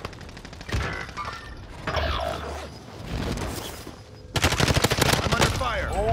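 Rapid gunfire in Call of Duty, loud bursts of automatic shots and single cracks coming in clusters, with a dense, sustained volley near the end and a voice talking faintly among the shots.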